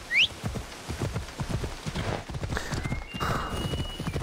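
Horse hooves clip-clopping steadily in the video game Assassin's Creed Odyssey, a close, even rhythm of hoof strikes with a brief whinny near the start and soft rain-like ambience behind.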